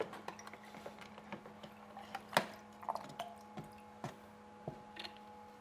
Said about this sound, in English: Now, next step will be to get some of the water out.